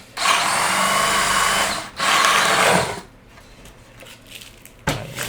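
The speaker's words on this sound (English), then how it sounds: "Get a reasonably thick piece of ply and drill the size hole of the thing you want in it." A power drill bores a hole through a thick piece of plywood in two loud, sustained bursts, with a short break between them, followed by quieter handling and a clunk.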